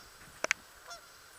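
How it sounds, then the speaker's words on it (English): Two quick, faint honks from geese on a pond in Kentucky, heard in close succession against a quiet outdoor background. "two geese out here on the pond"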